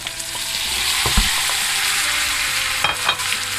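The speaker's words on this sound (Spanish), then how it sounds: "Y ahora ya vamos a echarle las patatas." Potatoes going into a hot frying pan with oil and paprika for patatas meneás, a loud steady sizzle up close with a few clanks and stirring bumps over it.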